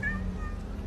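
A cat gives a single short meow, brief and fairly faint, with nothing else around it.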